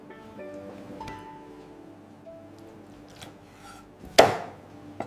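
A knife cuts raw chicken into pieces for frying in a home kitchen, with faint scraping and soft cuts over a low background hum, ending in one sharp, loud chop.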